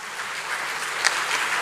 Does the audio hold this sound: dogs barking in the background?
no